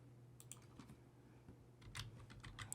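Someone types a single word on a computer keyboard: faint, close clicks in a loose, uneven rhythm, ending in a quick cluster of keystrokes, with no speech over them.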